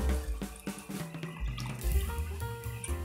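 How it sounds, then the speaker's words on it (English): Water poured from a tap into a pot of chicken sotanghon soup, a continuous running splash with shifting gurgles and a few clinks, moderately close and alone without talk. "Kaya dadagdagan ko pa siya ng water."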